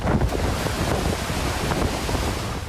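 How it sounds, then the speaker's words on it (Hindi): Fierce sea waves churned up by a cyclone off Sri Lanka, a loud, dense roar of surf and rushing water with heavy wind buffeting the microphone, continuous and close. "समंदर से आ रही खौफनाक लहरें कई जिंदगियों को लील चुकी हैं।"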